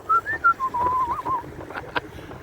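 A person whistles a short, bright melody of quick rising and falling notes while out cycling on a flat bike path, close and clear over faint outdoor background noise.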